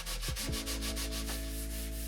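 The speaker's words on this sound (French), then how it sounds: "Je vais donc poncer avec du grain 220 pour obtenir une surface le plus lisse possible." Wood sanded by hand with 220-grit sandpaper while building a wooden terrarium: steady, close back-and-forth rasping strokes in a regular rhythm, loud and continuous, with no talk.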